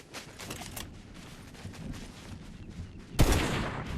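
Gunfire in the Fortnite battle royale game comes as scattered shots and short bursts, with a loud close burst near the end over continuous background game noise.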